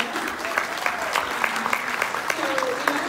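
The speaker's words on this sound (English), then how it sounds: "let's give a round of applause, Amy Pearson" A crowd at a Q and A session claps steadily and briskly throughout while a voice talks over it.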